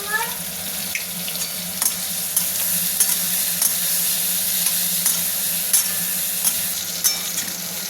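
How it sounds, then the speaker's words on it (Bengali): Pointed gourd (potol) pieces frying with turmeric in a pan give a steady, close sizzle with occasional stirring clinks and scrapes, continuous throughout with no voices. "পটলটাকে ভালো করে ভেজে নিতে হবে।"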